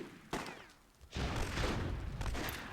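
Fire grenade explosions in the fantasy strategy game Myth II: Soulblighter, a sharp blast followed by a second, longer burst of crackling, roaring fire that sustains for over a second, with no voices.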